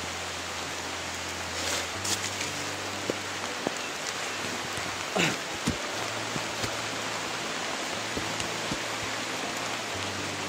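Heavy rain pours down steadily outdoors, a dense unbroken hiss of drops with a few sharper splashes and knocks nearby.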